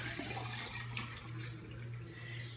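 Tap water runs steadily into a container at home, a constant faint rushing flow with a low hum beneath it, with no voices.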